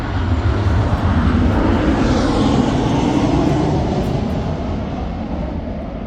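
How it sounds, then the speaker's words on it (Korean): An airplane passes overhead outdoors on a windy day, a loud broad engine roar that fills the whole stretch and slowly fades toward the end. "어 비행기 지나갔다"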